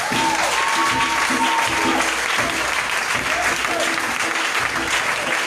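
A congregation at a divine healing seminar applauds the Lord with loud, continuous clapping that fills the hall. Faint voices and tonal sounds run beneath the clapping.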